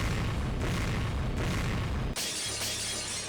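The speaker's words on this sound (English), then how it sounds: "Roar and explosion sounded at the same time." An explosion blasts through a door with a loud roaring boom and shattering debris. The blast sounds close and dense, then cuts off abruptly into a brighter, thinner tail.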